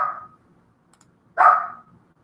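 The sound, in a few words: Chihuahua dogs barking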